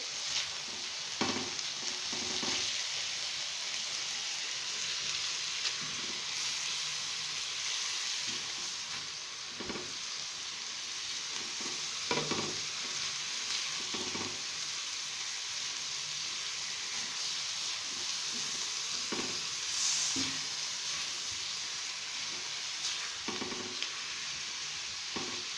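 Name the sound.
spices being stirred into chicken on a hot tawa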